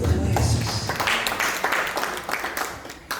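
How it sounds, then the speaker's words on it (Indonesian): Church congregation applauding for Jesus during a discipleship class at Bethany City Harvest in Sentani, a steady wash of clapping lasting a few seconds at moderate level. "Kita berikan tepuk tangan buat Tuhan Yesus."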